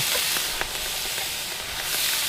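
Potatoes, zucchini, carrots and red onion sizzle and fry in a pan at a winter camp in the woods, a steady close hiss with faint crackles and occasional pops throughout.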